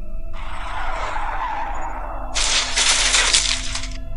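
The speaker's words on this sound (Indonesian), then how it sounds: "Akang gimana sih ini sampai ngerem mendadak motornya?" Motorcycle skidding under sudden braking on a road: a loud, close tyre screech that starts as a sliding hiss, then turns harsher and brighter for over a second before stopping abruptly, over a low engine hum.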